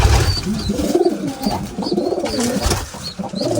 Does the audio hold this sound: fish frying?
no